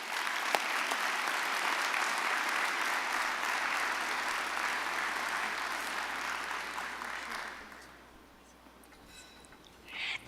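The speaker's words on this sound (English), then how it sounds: "Anya, we applaud your contributions." A conference lunch audience applauds an award recipient with dense, even clapping for about seven seconds before it fades away, followed by a short quiet stretch and a faint stir of sound.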